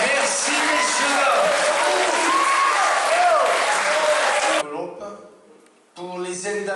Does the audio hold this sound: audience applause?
yes